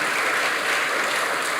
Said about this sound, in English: Let's have another round of applause for Captain Claiborne.